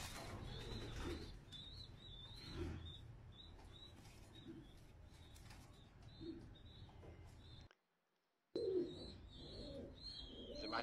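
Soft repeated cooing of fancy and homing pigeons in a quiet space, a regular rhythmic call with a short silent gap before it resumes.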